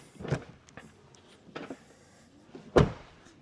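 The rear door of a Tesla Model Y Performance shutting with one firm, solid thump, preceded by softer handling clicks and rustles.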